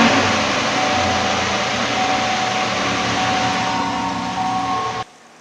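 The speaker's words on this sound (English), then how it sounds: "We're going to start the engine and park the vehicle on a level surface" A parked vehicle's engine runs at idle on level ground, giving a steady, close, even drone with a faint hum that holds for about five seconds before cutting off abruptly.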